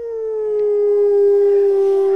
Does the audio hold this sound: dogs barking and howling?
yes